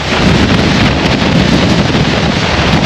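Strong wind buffets the microphone at a windy, subzero overlook in a constant loud roar, with a low rumble and a hiss of rushing air throughout.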